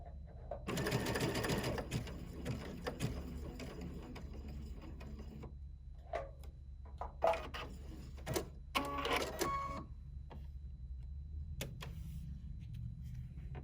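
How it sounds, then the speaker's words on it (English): A sewing machine stitches a button onto fabric, its fast mechanical whir running loud for several seconds, then pausing and returning in short bursts with clicks between, close and alone. "Let's sew the button on."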